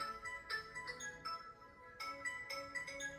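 A phone ringtone plays in repeating melodic bursts, fairly faint, with two clear cycles of bright electronic tones separated by a short pause.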